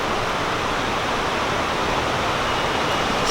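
River flowing through a German town, a constant loud rushing wash of water with no pauses and no voices.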